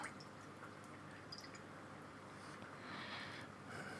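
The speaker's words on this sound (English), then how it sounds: "Let's wash my brush." Watercolour brush swished and rinsed in a water jar, giving faint soft dripping and sloshing at close range, with a slightly louder stretch of liquid movement toward the end.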